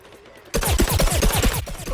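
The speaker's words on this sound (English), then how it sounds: "Now the Agent P has a suppressed, silenced pea cannon." Rapid bursts of muffled shots from a suppressed, silenced pea cannon in Plants vs Zombies Garden Warfare, starting abruptly and repeating in a dense, loud, chattering rhythm with no talk.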